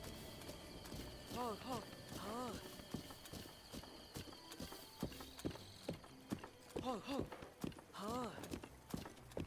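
Horse hooves clip-clop in a rhythmic gallop in the Breath of the Wild video game, with a neigh and mechanical game effects mixed in while a person talks over the action.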